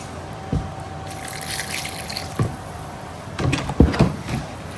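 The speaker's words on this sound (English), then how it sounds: "Let me add some more water to this junk." Water pours into an old cooking pot in a home kitchen, a soft trickling splash that comes in a few short bursts over steady background hiss, with no talking.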